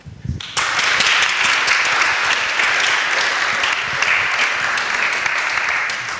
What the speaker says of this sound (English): let's do first a clap